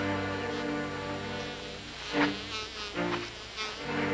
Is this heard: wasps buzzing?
yes